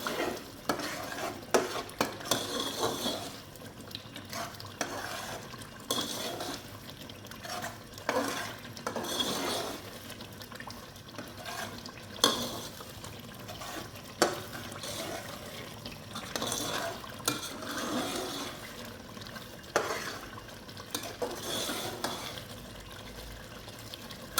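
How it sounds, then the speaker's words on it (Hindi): Chicken stirred and fried in a pan while cooking a chicken, chana and egg dish: a steady close sizzle under repeated scraping and clattering strokes of a spoon against the pan, with no talking. "हमने अच्छी तरीके से चिकन मिक्स करने के बाद इसको अच्छी तरीके से भुनाई की है"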